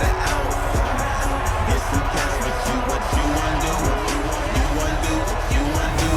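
Stadium crowd in Madden NFL 20 at a Dallas Cowboys versus Washington football game, a dense, steady roar of cheering and hubbub throughout, with a voice speaking over it.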